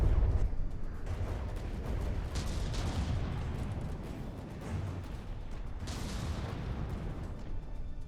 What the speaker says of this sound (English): the Seaweed cannons are firing